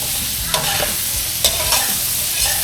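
Onions and chopped green beans sizzling steadily in a pan for semiya pulao, with a few distinct scraping stirs of a spoon against the pan over the constant frying hiss.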